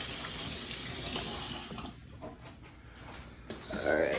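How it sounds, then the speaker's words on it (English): Tap water runs into a sink as hands are washed. A steady close splashing gurgle carries on throughout and drops briefly midway before the flow picks up again. "we're gonna wash our hands"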